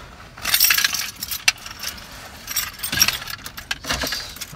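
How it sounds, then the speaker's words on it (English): Car keys jangle and clink in bursts as they are fitted into the ignition of a 1.3 Austin Metro Clubman L, close and fairly loud with no talking. "Obviously I need to put the keys in,"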